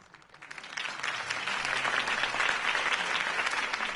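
Crowd applause breaks out after a political campaign speech by Harvey Dent in the video game Batman: The Telltale Series, swelling quickly from quiet into steady, dense clapping that holds for several seconds.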